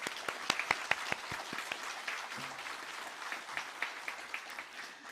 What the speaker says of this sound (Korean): 한번 큰 박수 부탁드립니다